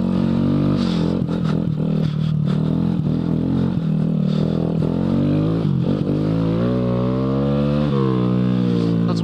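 Honda Grom motorcycle riding off-road in first gear through soft sand in the Pine Barrens, its engine loud and close, revving and bogging in waves with rattling and scraping underneath.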